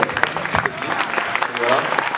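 A crowd at a Paris rally with yellow vests present bursts into applause, with dense overlapping clapping and a few scattered shouts, loud and close for a couple of seconds.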